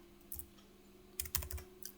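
Fingers typing on a computer keyboard while entering a symptom into a rural health care chatbot: a few short clusters of quiet keystrokes separated by pauses, close and alone over a faint electrical hum.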